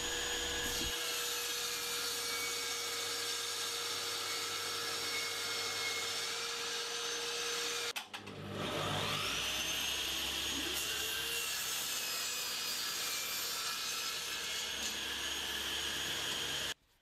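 Sawing through a 50mm thick birch plywood strip with a power tool, a steady loud whining drone running continuously, briefly dipping near the middle before resuming and cutting off at the end.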